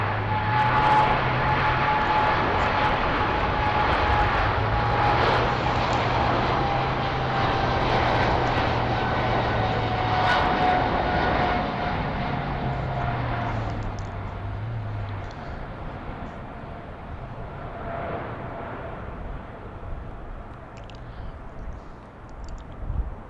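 A passenger jet at Heathrow airport produces a continuous loud engine roar that holds steady and then eases slightly toward the end.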